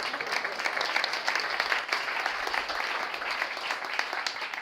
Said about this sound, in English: You may now give me an applause.